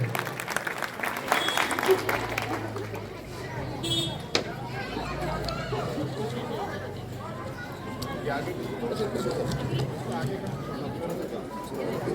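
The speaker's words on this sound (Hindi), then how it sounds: "जोरदार तालियां एक बार हरीश रावत जी के लिए" Loud audience applause at a Congress party political gathering in Uttarakhand, a sustained crowd clapping that swells and then continues steadily, with announcer speech and chatter mixed through it.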